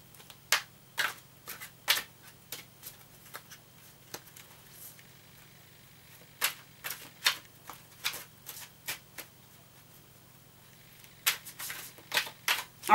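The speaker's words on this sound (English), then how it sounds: "So I'm just going to shuffle this right now." A deck of tarot cards is shuffled in irregular bursts of sharp, crisp riffling clicks spread across the whole stretch, separated by quiet pauses, close and fairly soft over a faint steady hum.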